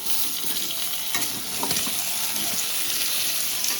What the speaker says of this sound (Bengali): আলুটা দিয়ে দিচ্ছি পেঁয়াজের সাথে। আলুটা আমি নাড়াচাড়া করবো।